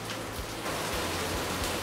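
Steady rain pours outside, giving a dense, even hiss with no pauses and no speech.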